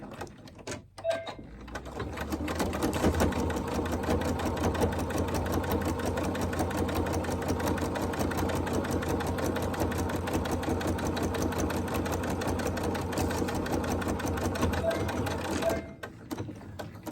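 A sewing machine runs along a basting stitch with a long, even, rapid mechanical whir and needle chatter that stays steady for about thirteen seconds before stopping, close and moderately loud.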